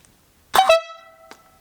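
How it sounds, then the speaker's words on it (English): A loud musical car air horn, a Dixie horn, blasts a short multi-tone burst, then a brief second honk follows after a pause. "I got this air horn out of a car I just bought"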